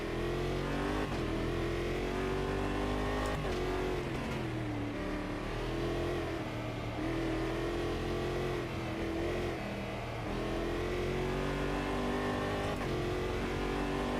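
Race car engine in the Automobilist racing game, revving hard and continuously with repeated rising and falling pitch sweeps as it accelerates and shifts, loud and close with no talk.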